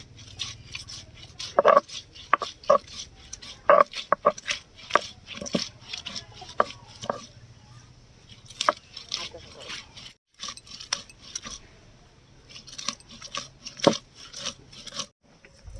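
Green chillies, garlic and coriander leaves ground into a paste on a stone slab for a prawn patia, giving repeated rough scraping and rubbing strokes with scattered knocks, close by, with some background voices.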